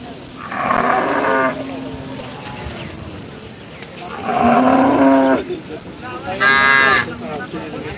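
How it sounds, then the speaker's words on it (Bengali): Large cows at a busy cattle market let out three loud, drawn-out moos close by, spaced a few seconds apart, over a low background murmur. "অনেক বড় বড় গাভী গরু কিন্তু হাটে আমরা দেখতে পাচ্ছি"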